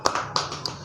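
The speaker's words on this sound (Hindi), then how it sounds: "आइए हम प्रभु के लिए ताली बजाएंगे।" A church congregation clapping hands during a Christian service in India, with a few sharp, evenly spaced claps at moderate volume and no talk over them.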